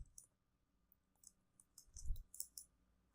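Faint keystrokes on a computer keyboard come as sparse, scattered clicks, with a short burst of taps near the end and a soft thump under them.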